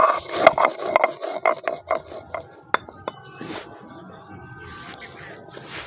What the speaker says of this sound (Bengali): এবার ধনিয়াটা আমরা বেটে নেব।